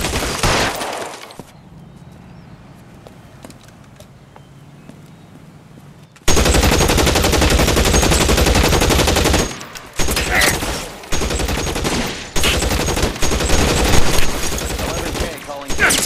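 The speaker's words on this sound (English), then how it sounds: "Shots fired and officers need help." Sustained automatic gunfire in the L.A. Noire video game, a loud continuous burst of rapid shots after a quiet stretch, with brief pauses between volleys.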